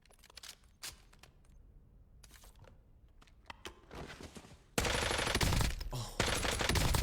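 Rapid bursts of GRAU assault rifle fire in a Call of Duty-style shooter, sharp clustered shots early on, then a louder, denser stretch of continuous automatic fire in the second half.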